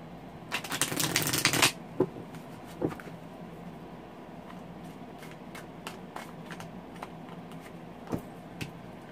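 Steampunk tarot cards are shuffled in one quick riffle of crisp flutter, followed by sparse soft taps and card handling, close and fairly quiet.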